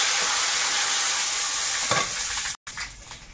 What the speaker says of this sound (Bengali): তেলে একটু পাঁচ ফোড়ন দিই, তেজপাতা